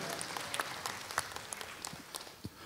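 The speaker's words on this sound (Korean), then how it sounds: "다시 한번 축하의 박수. 부탁드리고요" Scattered applause from an audience at a singing contest awards ceremony in a concert hall, somewhat distant and fairly faint, with individual claps standing out.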